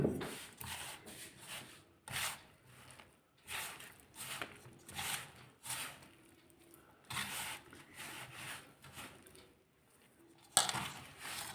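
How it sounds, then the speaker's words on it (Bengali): Spinach puri dough being kneaded by hand after warm water goes in: soft rubbing, squishing and slapping bursts come in irregular pulses, close and quiet, with no talking. "আমি এটা মেখে আপনাদের সামনে আমি ফিরে আসছি"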